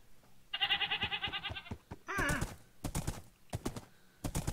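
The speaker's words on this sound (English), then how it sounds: "There is a black horse." Minecraft horses: a quick run of hoof clip-clops, then a shrill wavering whinny, followed by scattered hollow hoof clops, all clear and close against quiet.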